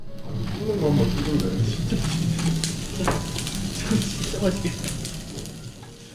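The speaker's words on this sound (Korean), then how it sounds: "등심은 역시 기름기가 많아서 구워지는 소리도 더 강렬하네요" Fatty Yeongam-raised hanwoo beef sirloin sizzles steadily on a grill at a high-end beef omakase counter, a continuous close crackle with murmured voices underneath.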